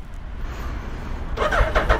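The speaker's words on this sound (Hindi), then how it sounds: "और अब जो है बाइक को करते हैं cold start and let's see" A Suzuki Hayabusa motorcycle is cold-started after sitting unused for about a month and a half. Quiet background gives way to the starter cranking and the engine catching into a loud, rough, pulsing idle partway through.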